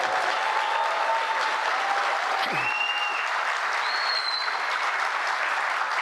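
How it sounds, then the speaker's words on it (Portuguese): An audience at a Brazilian political event with President Lula gives sustained applause, a dense, even roar of clapping throughout, with faint whistles and a few voices rising above it. "Uma salva de palmas a ela."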